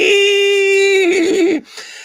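A human voice mimics a ZX Spectrum 16K game loading from tape: a loud, steady, pitched tone held for about a second, then breaking into a wavering, warbling buzz before it stops.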